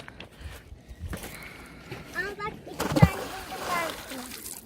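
Water waves splash and slosh at close range at Kurtboğazı Dam in Ankara, with a sharper splash near the middle, while people talk over the outdoor ambience.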